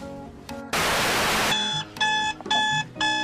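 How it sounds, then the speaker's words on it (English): A foaling alarm going off for a pregnant mare, repeated electronic beeping tones in short bursts, interrupted by a loud rush of static noise, close and insistent with no talk. "My foal up alarm just went off."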